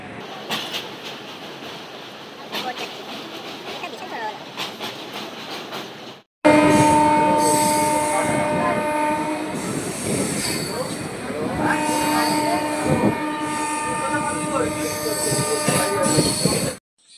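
A passenger train crosses the Rupnarayan river bridge heading toward Digha, its wheels clattering and squealing loudly with a sustained horn-like tone, following a quieter stretch of muffled rolling.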